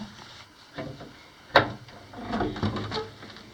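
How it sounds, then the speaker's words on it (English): Old door being opened inside a four-level copper mine, with a sharp bang and creak followed by scraping and knocking as it is worked loose, fairly close. "Julie got the door open."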